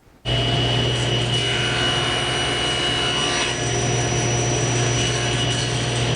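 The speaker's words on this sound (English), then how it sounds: "my hands are going to be far away from that blade when I make this cut" Table saw crosscutting wood on an Incra miter sled with hold-down clamp, a steady loud motor whine running throughout with a brief change in tone as the blade passes through the cut; no talking.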